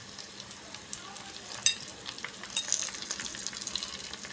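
Jute greens tossed into half-fried onion and garlic in a pan, a soft steady sizzle nearby with a few light clinks and a brief louder crackle as the leaves hit the oil.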